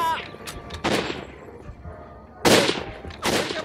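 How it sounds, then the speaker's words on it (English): Gunfire in the war shooter Shellshock 2: Blood Trails, with several loud, sharp bursts of shots and crackling tails, separated by quieter gaps of ambient battle noise. "I know someone's shooting me in the side"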